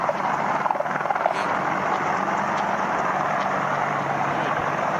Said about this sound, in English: they're using Apache helicopters To to clear the push runway